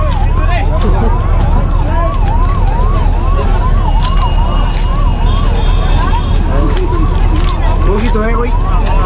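A loud wailing ambulance siren rises and falls repeatedly over heavy traffic noise, close by and continuous.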